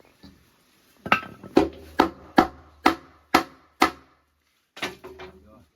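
Hammering nails into a wooden frame, about seven sharp, evenly spaced knocks followed by a pause and one more blow, close and loud with faint voices nearby.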